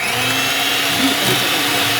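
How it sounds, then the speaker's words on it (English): Electric hand mixer whirring steadily as it beats softened butter with erythritol sweetener for a gluten-free almond and coconut flour fruit cake, a close, continuous high motor whine with no pauses. "And I'm going to try to go ahead and beat"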